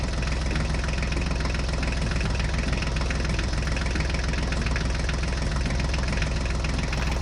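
Motor of a toy John Deere tractor driving across a small toy bridge, a steady continuous engine-like hum and rattle holding at even loudness throughout with no talk.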